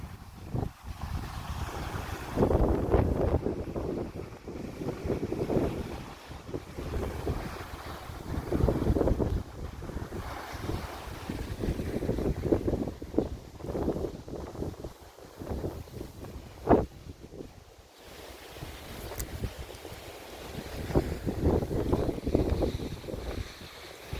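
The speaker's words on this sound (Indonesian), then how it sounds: "Anginnya kencang." Strong wind buffets and roars in surging gusts at a beach, with a boat-like rumble and water wash underneath, loud and continuous for the whole stretch.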